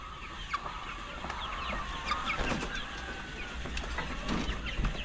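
A backyard flock of young chickens from a fifth batch, about two to three months old, clucking and chirping in scattered bursts at moderate distance over a low steady background hum.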